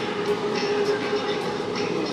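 An electric train in Thailand rushes past fast and close, a steady loud roar and rumble that holds for the whole stretch.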